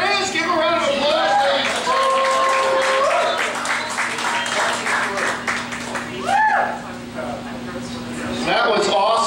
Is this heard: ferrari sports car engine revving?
no